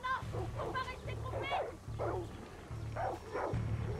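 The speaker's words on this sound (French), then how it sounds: "Guapo il est en train de se fight avec un chien en fait" Far Cry 6 dogs scuffling with sharp barks, yips and whimpers in quick clusters, close and loud, over a pulsing low game soundtrack.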